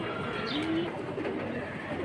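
Pigeons in a crowded pigeon market give soft, low coos, faint against a steady murmur of background noise.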